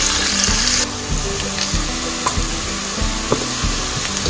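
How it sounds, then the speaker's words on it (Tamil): Onions sautéing in oil in a pan for chicken biryani, with a steady, close sizzle and occasional stirring scrapes, alone without talk. "நல்லா இந்த பச்சை வாசனெல்லாம் போக தள்ளி நம்ம நல்லாவே வதக்கலாம்"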